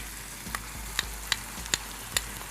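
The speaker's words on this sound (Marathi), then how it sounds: "आता हे मी व्यवस्थित परतून घेणार आहे" Kalavanchi koshimbir being stirred and sautéed with lemon juice in a pan, a soft steady sizzle under five sharp spoon scrapes against the pan at regular intervals.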